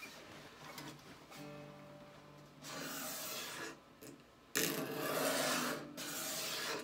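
Wooden neck of a Harmony Monterey archtop guitar being shaved down with the strings still on, giving steady rasping, rubbing strokes up close that come in several bursts with short pauses between them.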